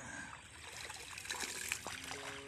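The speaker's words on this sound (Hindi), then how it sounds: "ये देखो कैसे पानी लगाते हैं" Water trickling and flowing through a field irrigation channel in a Punjab village during wheat harvest, a soft, continuous gurgle heard from close by, fairly quiet, without talk.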